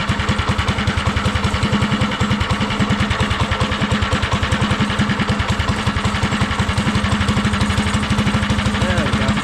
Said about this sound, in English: So now I'll fire it up and we'll see where it's at for its air fuel ratio